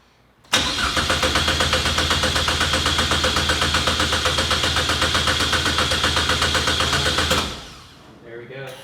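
A Chevy Sonic turbo engine fires up abruptly and runs steadily at a loud, close idle with a fast pulsing rhythm for about seven seconds, then cuts off, leaving faint background noise and a voice afterward.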